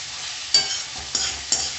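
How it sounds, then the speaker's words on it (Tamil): Onion and garlic fry in a pan with a close, steady sizzle, broken by three quick scraping strokes of a spoon as they are stirred. "பூண்டு போட்டுட்டு கொஞ்சம் நல்லா மிக்ஸ் பண்ணிக்கலாம்."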